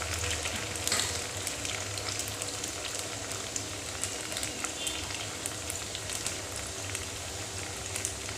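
Pakoras sizzling and frying in hot oil, a steady dense crackle with scattered louder pops, continuous and fairly close throughout with no talk.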